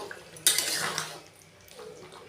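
Spice mix stirred into a cooking pot with a utensil: a sudden bright scraping clatter of metal on the pot, then softer scraping that fades to quiet.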